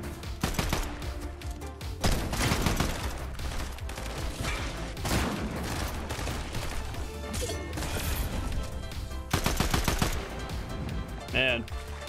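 Sniper and weapon fire in Fortnite Chapter 2, with loud sharp shots spaced through a dense, busy battle mix of impacts and effects.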